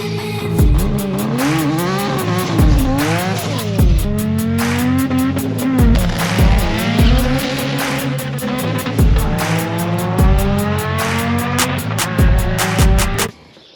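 A car engine fitted with a new homemade intake manifold cranks and tries to fire, throwing loud, rough, repeating bursts of revving that swell and drop again and again for about fourteen seconds, then cut off abruptly.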